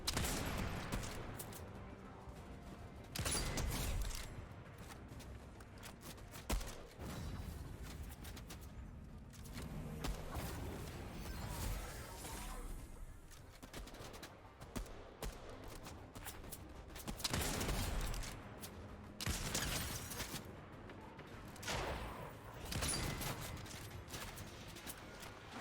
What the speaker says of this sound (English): We need to get 3 headshots with the sniper rifle against IO guards